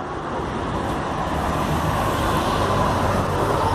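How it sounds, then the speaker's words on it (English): Steady loud road noise from cars rushing past nearby, a continuous broad whoosh with no speech over it. "Come on, you cars. I'm trying to speak."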